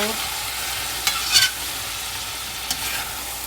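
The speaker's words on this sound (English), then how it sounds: "I'm going to give this mixture another stir" A spatula scrapes and stirs an okra and tofu stir-fry sticking to a hot pan, with a few sharp clinks over a steady background sizzle, close and fairly quiet.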